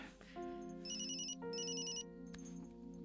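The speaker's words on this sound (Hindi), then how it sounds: "तुम्हारे घर से फोन है" A mobile phone ringtone plays a repeating electronic melody with bright chiming notes, close and clear, while a car interior hums quietly underneath.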